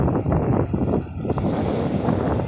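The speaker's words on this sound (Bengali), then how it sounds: "প্রচণ্ড বাতাস, আর ঢেউ বেশ উত্তাল" Strong wind roars across the Padma river in stormy weather, with heavy buffeting against the microphone over a rushing wash of rough waves. The sound is loud and continuous, with no voices.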